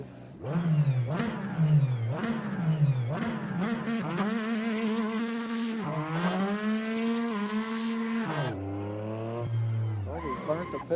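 A Porsche engine revs repeatedly, its pitch climbing and dropping in sweeping waves over a steady drone, and the tone falls off to a lower idle near the end. A voice may be partly mixed in.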